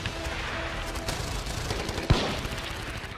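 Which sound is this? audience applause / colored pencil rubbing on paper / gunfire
gunfire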